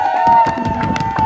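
A protest crowd in St Paul, Minnesota roars with cheers and applause for the next speaker, a dense, steady wall of voices and clapping close by that swells and stays loud throughout.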